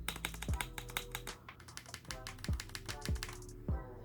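Keys clack on an Akko 5075B Plus V2 Dracula Castle mechanical keyboard in quick irregular taps, close and crisp, with a few deeper, heavier key presses spaced among them.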